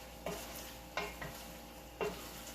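Garlic shrimp sizzling in a pan deglazed with white wine: a soft steady frying hiss punctuated by three distinct scraping stir strokes, close and fairly quiet, with no talk.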